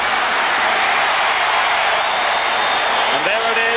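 Rugby league stadium crowd at a 1985 major semi-final roaring continuously, a dense, loud wall of shouting voices with no break from start to finish.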